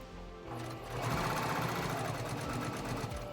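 A sewing machine stitches a straight seam on a bowl cozy, a steady close whirring hum with rapid rhythmic needle ticking that runs continuously.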